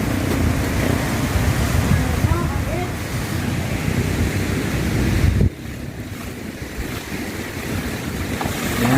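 Strong typhoon wind in Nueva Ecija, Philippines, roars and buffets the microphone continuously, loud and close, easing slightly partway through but never stopping.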